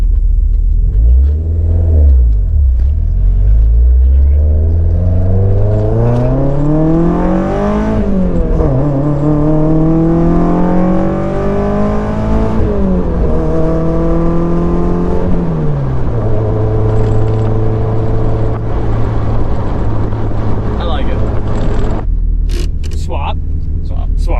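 Deep, choppy engine rumble from a cammed 1.6 Mazda Miata with individual throttle bodies nearby, revs repeatedly climbing and falling back, heavy low throb throughout.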